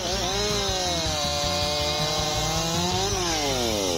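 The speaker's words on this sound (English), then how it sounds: "the Makita EA 7900 handheld chainsaw makes wood cutting easier than ever" A chainsaw runs loud and steady up close, its whining motor pitch dipping and rising as it cuts.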